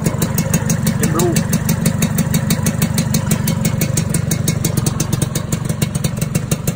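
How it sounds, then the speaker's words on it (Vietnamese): A Suzuki Xipo 99 motorcycle in all-original condition idles smoothly and close by, its engine giving a loud, even, rapid putter throughout. "Máy móc bọc bao êm."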